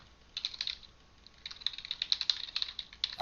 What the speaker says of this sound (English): Oh god, no typing.